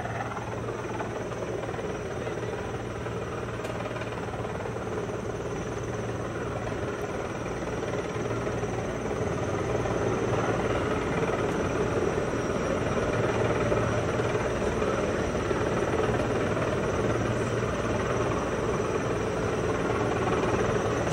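A large sky crane helicopter hovers at a distance, its huge rotor and engine making a steady, continuous drone with no talking.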